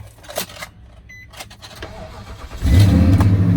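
A 2006 Nissan Titan truck engine cranks briefly with a few faint clicks and whirs, then catches and settles into a loud, steady idle close by.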